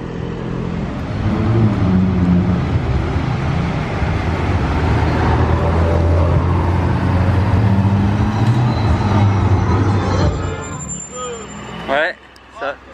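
A Lamborghini Aventador S engine roars loud and close for about ten seconds, then cuts off sharply, with people talking over and after the noise.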